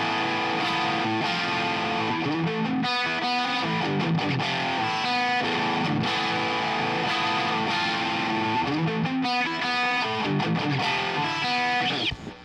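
Distorted electric guitar chugs through a steady rhythm part in a song built on the A Aeolian scale with Mixolydian touches, loud, close and continuous with dense crunchy chords, no talking, cutting off abruptly at the end.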